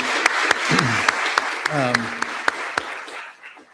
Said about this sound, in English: let's have another round of applause for Emily Burns for organizing this symposium